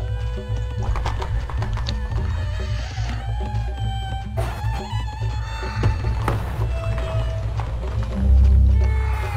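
Horses gallop in a historical strategy video game battle between Egyptians, Nubians and British, with steady hoofbeats and whinnies running through the whole stretch over dense game music and effects.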